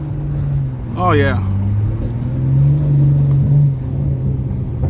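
A Hyundai Genesis Coupe's engine and exhaust drone steadily while driving, with a brief pop and crackle from the exhaust early on and a voice speaking briefly over the engine.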